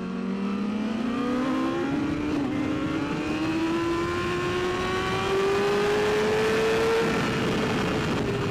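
Race car engine at speed during a race at Fontana, a fairly quiet, steady whine climbing gradually in pitch through a long pull, with road and wind noise beneath and no speech.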